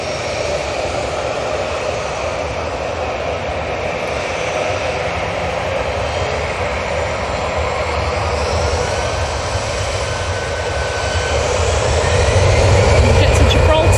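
EasyJet airliner jet engines at Manchester Airport roar steadily and loud throughout, swelling further near the end, with voices talking over the engine noise.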